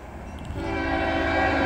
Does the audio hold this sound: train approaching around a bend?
yes